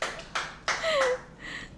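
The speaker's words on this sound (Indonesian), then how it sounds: "Tepuk tangan dong guys." A few sharp, separate hand claps spaced roughly a third of a second apart, close by and brief, followed by a faint tonal sound and light background noise.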